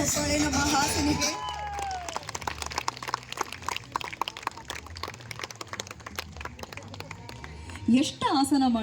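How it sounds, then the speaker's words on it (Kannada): An audience applauds a young performer with a quick, steady patter of many claps lasting several seconds, moderately loud, framed by a voice talking before and after. "ಜೋರಾದ ಚಪ್ಪಾಳೆ ನಮ್ಮ ಹಾಸಿನಿಗೆ."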